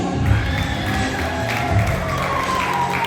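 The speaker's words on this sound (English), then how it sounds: "Round of applause for NGSA graduate Eddie Singh." A graduation audience applauds and cheers steadily, with clapping and scattered shouts blending into a continuous wash of noise.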